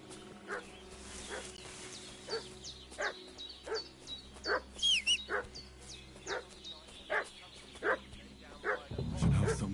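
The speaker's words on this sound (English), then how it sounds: "What's that dog making such a fuss about?" Dog barking in the medieval video game Kingdom Come: Deliverance, a steady run of about a dozen sharp barks at moderate distance, with a faint voice under them and a louder thump near the end.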